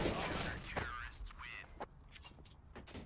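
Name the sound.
gunshot in the video game CS:GO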